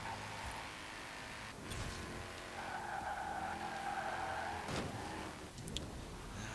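A 1953 Jaguar C-Type slides through corners in Forza Horizon 4, its tyres skidding in a sustained, wavering squeal over the steady drone of the engine.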